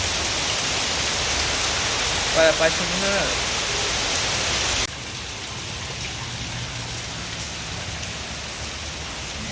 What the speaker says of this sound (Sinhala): දැන් ආයෙ වහින්න පටන් ගත්තා.